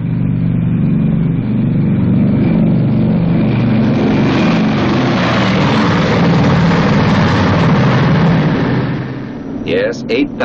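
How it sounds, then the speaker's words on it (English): The four Wright 3350 engines of a Boeing B-29 Superfortress roar in a loud, sustained drone that holds steady, then eases off near the end. "And those are its four Wright 3350 engines."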